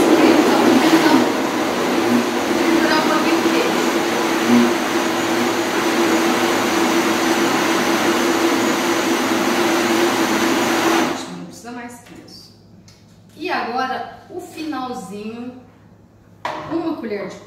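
A blender whirs loudly and steadily as it mixes a litre of milk into a cornmeal cake batter, then cuts off, leaving someone talking in a quiet kitchen.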